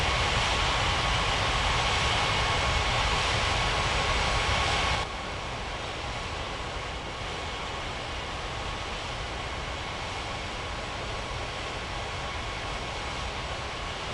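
Airliner engine roar during takeoff in an air traffic control game, a steady loud broadband rumble that drops to a lower, quieter level partway through, no talking.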